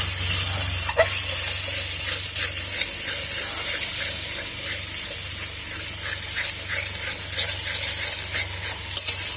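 Spice paste for a yogurt chicken curry being stir-fried in a pan: continuous frying sizzle with irregular scraping and stirring strokes throughout, close and moderately loud, no talking.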